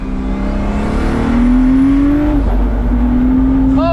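A Pagani Huayra Roadster BC accelerates hard with its tires spinning, the engine rising in a loud, sustained drone with a brief dip midway, heard from inside the car.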